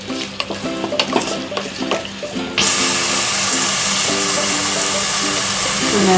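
Mixed grains sauté in a pan, first with a quieter sizzle and clattering stirring, then a sudden louder, dense hiss as fresh ingredients hit the hot oil, continuing steadily to the end.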